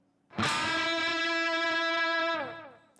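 An electric guitar with a gritty distorted tone sounds one sustained unison bend. Two strings ring loudly together, the bent note slides up to meet the other pitch, and the chord holds for about two seconds before cutting off.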